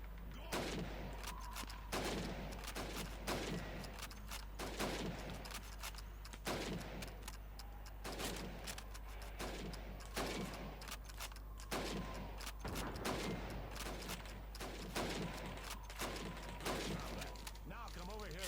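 Rapid rifle gunfire rings out in Call of Duty 2 on Xbox 360 as a helmet is shot, repeated sharp cracks under constant game noise, with voices talking over it.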